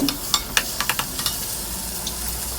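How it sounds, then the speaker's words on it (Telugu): Cut taro root pieces drop into a hot pan and sizzle as they fry, a run of soft clattering taps over the first second and a half, then a quieter steady hiss. "ఇప్పుడు చామదుంపలు కట్ చేసినవి వేస్తున్నాను"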